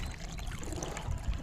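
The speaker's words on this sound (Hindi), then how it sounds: "अब इसके ऊपर हमने पानी डाल के ज़्यादा इसको साफ़ करना शुरू कर दिया है।" Water pours and trickles steadily over a pet tortoise as it is washed, a close, continuous splashing with no talk.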